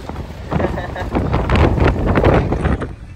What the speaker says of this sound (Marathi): वारा बघा कशी बसली.